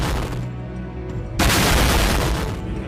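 An explosive-laden FPV drone strikes a military position with a sudden loud blast, followed by a sustained roar and rumble after a quieter lead-in.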